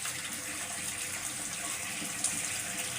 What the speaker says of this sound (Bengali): কচুগুলো ধুয়ে নিচ্ছি